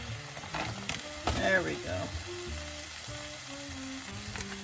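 Food heats in a pan inside a van, a steady crackling sizzle with scraping stir noises and a short burst of louder clatter, while a voice briefly speaks over it.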